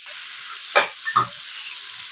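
Cumin seeds sizzle in melted butter in a pan over low heat for Mumbai-style pav bhaji. A soft, steady hiss carries two short, louder bursts of crackle close together, with no talk.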